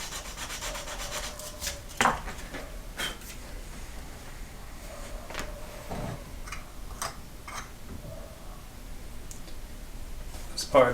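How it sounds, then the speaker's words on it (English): Sandpaper scuffing leather for a vertical wallet before gluing, a faint soft rubbing with scattered light clicks and taps, close but quiet. "I will scuff up with the sandpaper right above where that's going to connect a little bit."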